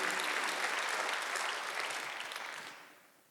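A church congregation applauding during a Sunday service, with dense, steady clapping that gradually fades out over the last second.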